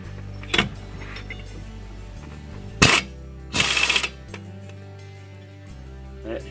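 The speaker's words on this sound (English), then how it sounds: "Now it's best to use an impact wrench for this." An impact wrench loosens a bolt in three loud bursts, one short, one brief and one longer rattling run of about half a second, with quieter gaps between them.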